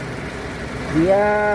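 A 2005 Nissan X-Trail T30 with a 2.5-litre four-cylinder engine idles with a steady low rumble, and a voice speaks briefly over it. Near the end a rising tonal whine joins the engine.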